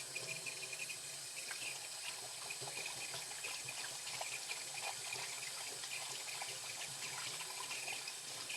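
Water runs steadily from a kitchen tap into a sink clogged with stagnant water, a soft continuous hiss and trickle at low volume throughout.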